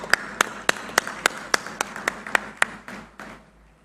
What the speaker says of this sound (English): Let's make sure our guests behind us are able to hear your applause.